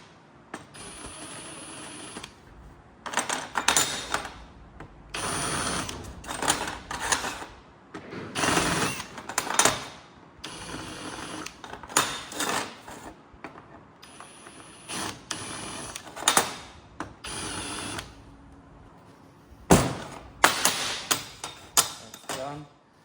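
Repeated bursts of scraping, rasping metal work, a tool deburring drilled holes in aluminium plate in short passes separated by brief pauses, close and fairly loud.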